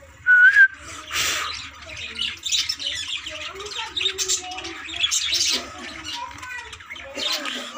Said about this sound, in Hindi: ये पिंजरे में कुछ ज़्यादा तोते हो गए।